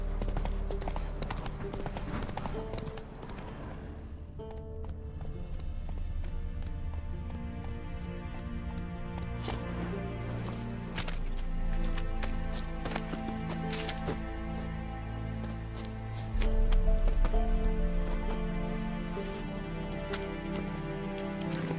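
Roach the horse galloping in The Witcher 3: Wild Hunt, steady clip-clop hoofbeats running under layered game music and ambience, moderately loud and continuous.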